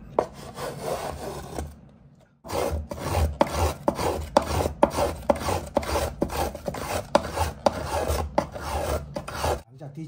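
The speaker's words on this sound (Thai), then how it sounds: "ที่ใช้แพนเนอร์ที่เป็นหน้าแฟตนะครับพอขูดไปได้ถึงระดับหนึ่ง" Flat-soled hand plane shaving down the wooden bass bar inside a violin during repair, a close, steady run of rhythmic rasping strokes after a brief pause, each stroke a dry scrape over a low hum.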